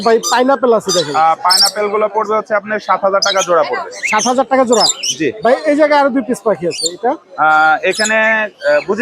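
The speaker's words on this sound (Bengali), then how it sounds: "নিচে অনেক সুন্দর হলুদ টিয়া পাখি" Parrots squawking and chirping at the busy Mirpur-1 bird market in Dhaka on a rainy day, mixed in with loud, close voices of people talking over them.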